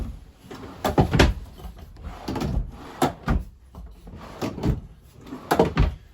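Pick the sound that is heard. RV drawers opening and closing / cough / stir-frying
RV drawers opening and closing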